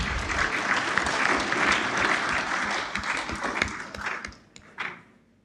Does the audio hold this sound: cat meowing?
no